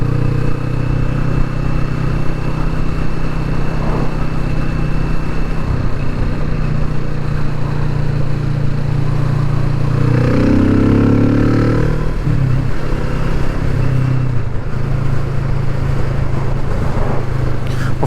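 Kawasaki Vulcan S motorcycle engine droning loud and steady while riding on the road, with a broad rise in revs partway through and constant wind rush.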